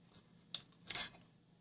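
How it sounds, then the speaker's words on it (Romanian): Scissors cut a drinking straw to size, giving two sharp close snips about half a second apart with faint handling before them and no speech. "În primul rând tăiem paiul la dimensiunea la care am dorit să facem"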